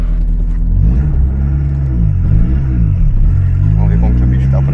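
A VW Parati with a 1.8 turbo engine revs while driving, its loud engine note sweeping up and down through gear changes over a steady cabin rumble, with people talking inside.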